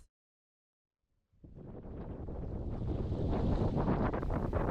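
A sailboat running downwind at sea in strong wind at about six knots: after a moment of silence, a loud rushing roar of wind and water surges in and stays steady.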